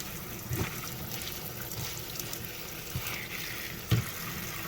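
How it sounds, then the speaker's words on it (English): Water sprinkled over loose tea leaves for sun tea outdoors, a soft close trickling and splashing with a couple of brief louder splashes, no talk. "I'm gonna get some water and just sprinkle it over those leaves"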